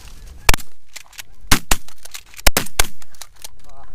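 Shotgun blasts during a cold Colorado goose hunt, several sharp loud reports spaced irregularly over a few seconds, close by, with faint voices in the background.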